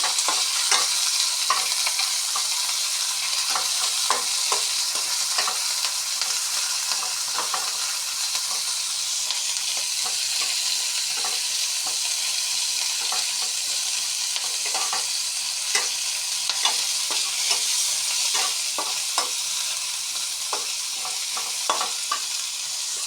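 Onion dropped into hot oil in a wok sizzles loudly and constantly, with frequent crackling pops and stirring scrapes over a dense hiss, and no voices.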